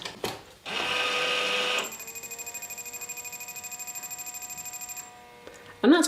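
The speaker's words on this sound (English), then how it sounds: "when you first switch the incubator on, it's going to make all sorts of little noises" Brinsea Mini Advance incubator running its switch-on self-check: a short buzzy tone, then steady electronic pitches over a rapid, even pulsing whir that stops before a final brief sound, all faint and close.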